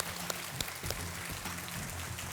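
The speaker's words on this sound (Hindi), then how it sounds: "आइए, तालियों के साथ इनका स्वागत।" Studio audience applause welcoming a contestant on a Hindi-language quiz show set, a steady wash of clapping with a few sharper claps standing out, moderately loud and sustained throughout.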